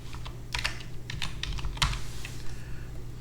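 Computer keyboard typing in short irregular bursts of crisp close clicks, a handful of keystrokes clustered together with brief pauses, over a low steady hum.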